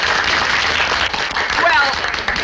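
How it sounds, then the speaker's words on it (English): A theater audience applauds a soldier at a patriotic gathering, a dense, steady wash of clapping filling the short moment, with voices faintly mixed in. "another round of applause for Private Gillis"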